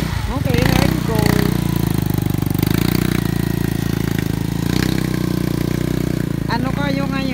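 A motorcycle engine idles in a steady, rumbling putter throughout, close and fairly loud near Taal Lake, while voices chatter intermittently over it.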